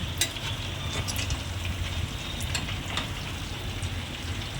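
Fish fry pieces turned over in hot oil keep up a steady, moderate sizzle like light rain, with a few faint clicks from the flipping, heard close with no voices.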